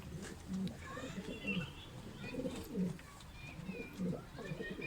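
Adana pigeons coo in a series of soft, low, rolling calls repeated several times, fairly close, with faint background sounds and no clear talk.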